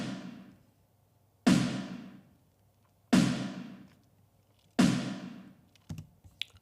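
Distorted room-mic sample of a drum kit gives three loud, overdriven hits with long decaying wash, then a few softer taps near the end.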